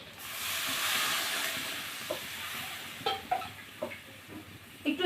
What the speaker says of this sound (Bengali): মাছগুলো দিয়ে দেব। দিয়ে আস্তে আস্তে নেড়ে নেব।